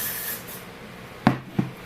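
Hair spray misted onto hair while a bubble ponytail is styled: a faint hiss early on, then two short, sharp spray bursts close to the mic, about a third of a second apart, with no talking.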